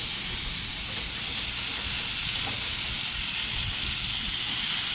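Zucchini, tomato and onion browning on a covered grill give a loud, steady broadband sizzle and hiss that holds unbroken and even throughout, close by with no voices.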